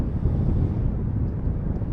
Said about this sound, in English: Sure is windy up here.